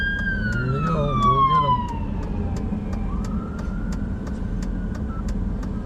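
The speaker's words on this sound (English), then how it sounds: "Here comes the fire department." A fire department truck passes in the streets of Minot, North Dakota, its siren wailing and then sliding down in pitch as it goes by, loud over steady road noise, with a voice audible underneath.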